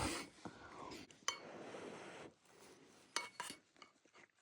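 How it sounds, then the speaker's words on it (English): Dirty dishes and cutlery clanking around aboard a small sailing rowboat: scattered clinks and rattles under close, quiet conversation, with a few sharper knocks. "we've just got all these dirty dishes just clanking around"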